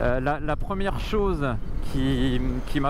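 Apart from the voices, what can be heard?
None of the usual background noises is heard.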